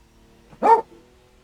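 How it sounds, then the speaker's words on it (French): A pet dog at home lets out a single short, loud bark nearby, sudden against a quiet background with no one talking. "Il a fallu qu'il aboie."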